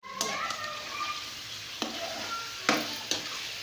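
Chicken is dropped into hot oil to sauté, giving a faint steady sizzle with a few sharp clinks and stirring knocks scattered over a few seconds.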